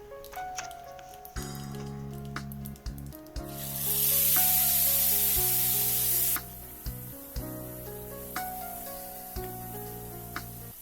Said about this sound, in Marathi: ही पेस्ट छान परतून घेणार.